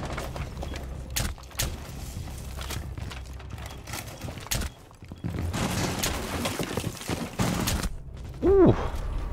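Shotgun blasts in Rainbow Six Siege ring out as several sharp, separate reports among mid-level game noise, with footsteps and mechanical clatter between shots and a brief whooshing effect near the end.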